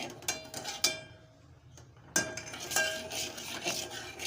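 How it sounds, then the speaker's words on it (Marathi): A spoon stirs a melted jaggery and salt mixture in a pan, giving close scraping and clinking strokes in an uneven rhythm with a short quieter pause in the middle. "आता मी इथे चवीपुरतं मीठ घालत आहे आणि मिश्रण छान एकजीव करून घेत आहे"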